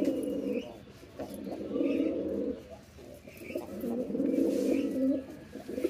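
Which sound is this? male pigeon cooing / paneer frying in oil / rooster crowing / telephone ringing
male pigeon cooing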